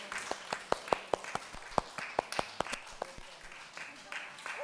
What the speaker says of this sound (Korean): 다시 한번 우리 박수해 주십시오.